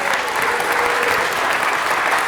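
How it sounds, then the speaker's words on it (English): Loud, dense applause from a crowd at a city council meeting, steady and sustained for a couple of seconds without letting up. "Let's give Carlos a round of applause."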